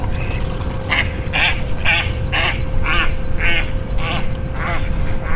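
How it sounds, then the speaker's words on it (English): Ducks quacking repeatedly near a private lake during a fishing outing, a loud, steady series of about a dozen harsh nasal quacks over a constant low hum. "Ducks aren't too happy about me."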